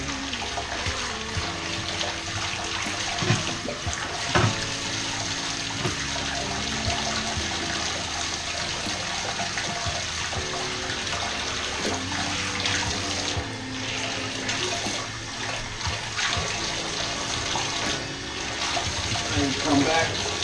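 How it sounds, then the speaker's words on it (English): Water runs continuously from a tap into a bathtub being rinsed during resurfacing, a steady splashing rush with occasional knocks and scrapes, while a voice talks over it at times. "When you rinse it, it also helps, you know, with the grease, dust, soap scum"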